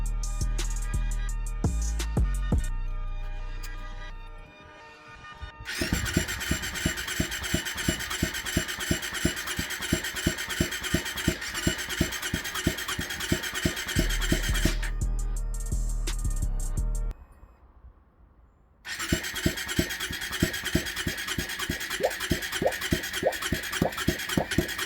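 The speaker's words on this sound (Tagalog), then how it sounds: "umandar na yung engine natin" A spare car engine idles steadily with a rapid, rhythmic mechanical chatter, loud and close, cutting out twice briefly before restarting and settling back into its even idle.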